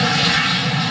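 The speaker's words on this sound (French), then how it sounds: "Avion 3, autorisation de décollage." Airplane engine roaring loudly and steadily at takeoff power, a dense continuous whine and rumble with no voices over it.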